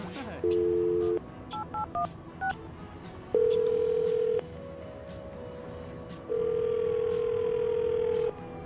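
Telephone dialing while calling Mark: a dial tone, a quick run of keypad beeps, then long ringing tones with gaps between them, set against faint background talk.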